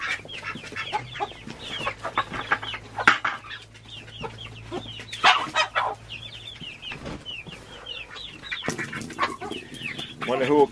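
Homestead chickens cluck and squawk repeatedly at close range, with irregular bursts of calls and a rooster-like note among farm noises, while a person talks briefly in between.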